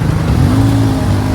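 A jeepney engine rumbles close by with a steady, loud low drone and a slight rise in revs, as if the vehicle is pulling up or idling at the roadside.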